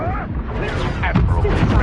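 The Incendio fire spell in Hogwarts Legacy bursts out with a loud, rumbling, booming whoosh of flame over close combat noise, with a voice shouting at the same moment.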